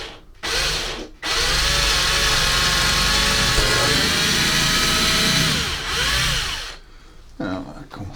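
A power drill whines loudly and continuously while cutting a groove for wires on an N gauge model railway layout, with pitch sagging under load, short pauses at the start and end, and faint handling noises afterward.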